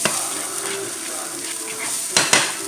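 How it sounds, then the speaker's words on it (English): White and baby portabella mushrooms sauté with onions in a pan for a vegetable stir fry, a steady close sizzle with a couple of sharp utensil scrapes near the end. "That'll saute real nicely with the onions."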